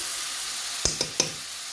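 Ginger fries in hot oil with a soft steady sizzle, broken by three quick knocks of a spoon against the pan, close and without talk.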